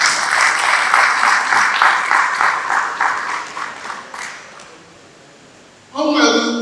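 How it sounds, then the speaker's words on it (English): A round of applause from an audience at a servant-leadership event, loud clapping that gradually fades over several seconds, followed by a brief tonal sound at the end. "So please, a round of applause."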